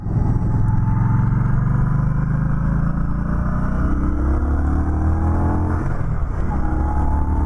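A 2020 Indian Scout Bobber Sixty motorcycle engine drones loud and close while riding, holding a steady low rumble with a gradual change in pitch, mixed with wind noise, and no talking.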